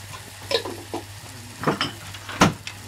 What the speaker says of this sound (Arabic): هنحط نص معلقه سمسم ونقلب